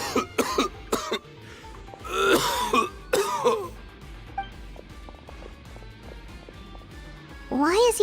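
A character in Genshin Impact coughs hard several times in quick fits, with a pause between them and another rough cough toward the end, over quiet game ambience, and voices speak near the middle.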